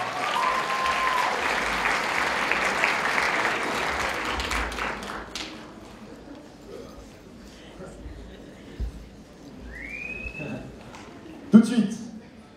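Audience applause at a live stage show, a dense burst of clapping for the first few seconds that quickly dies away into scattered sounds and a short whistle-like tone, with a voice speaking toward the end.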